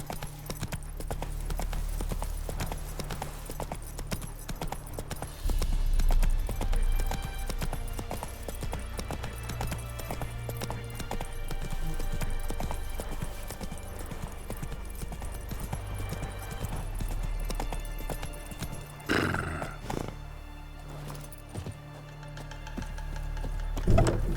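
Roach, the horse in the video game The Witcher 3, gallops with a steady, rhythmic clip-clop of hooves that runs for a long stretch over a low rumbling background. One heavier thump stands out near the end.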